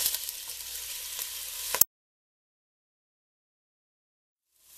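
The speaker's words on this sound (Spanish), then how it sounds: "ahora ponemos 2 cucharadas o 3 de aceite de oliva y ponemos el pollo" Pieces of chicken frying in olive oil in a pan, a loud, bright crackling sizzle with small pops for under two seconds, then abruptly cut to silence.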